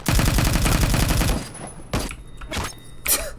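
Rapid automatic gunfire in a first-person shooter game, a loud sustained burst of tightly spaced shots that stops abruptly, followed by a few scattered single impacts and thuds.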